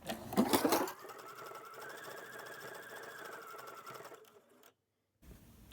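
A sewing machine runs steadily at close range, stitching jersey fabric for several seconds, then stops and falls briefly silent.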